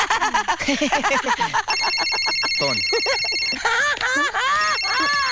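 A telephone rings with a steady electronic tone for a couple of seconds, sounding amid music and voices.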